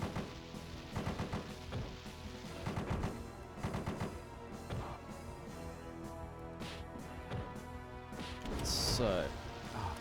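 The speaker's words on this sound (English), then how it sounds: "now I have a machine gun" Arcade machine gun fire in a MAME game, repeated sharp rattling bursts mixed with crashes and game music across the whole stretch, fairly busy and continuous.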